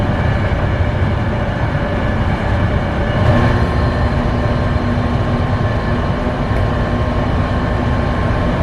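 A BART train at Bayfair station in the Bay Area gives a loud, steady rumble heard from on board, an unbroken low roar with faint tonal hums and no talking.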